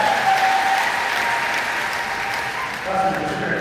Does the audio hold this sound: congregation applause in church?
yes